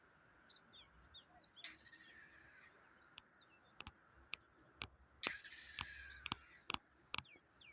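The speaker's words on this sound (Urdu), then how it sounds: "یہ درخت کی چوٹی پر پرندہ ہے، اور اس کی آواز سنیں" A bird calls from a treetop at the Sirkap ruins in Taxila, giving faint scattered chirps followed by a run of sharp, rapid clicking calls in the quiet outdoor air.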